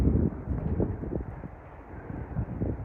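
Steady wind buffets the microphone on a cold hillside facing Pendle Hill, a low rumbling roar with irregular gusty surges and no voices.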